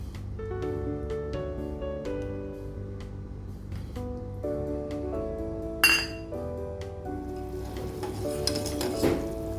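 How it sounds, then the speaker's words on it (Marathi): A spoon stirs a sugar mixture for shankarpali in a bowl, giving light clinks and scrapes against the side, with a louder clatter midway, over a steady tonal backdrop. "चमच्याने थोडी मिक्स करूया"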